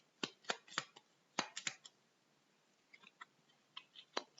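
Cards from the board game Escape Plan shuffled and dropped onto a table, a quiet series of sharp clicks and snaps in short bursts with pauses between, close and alone.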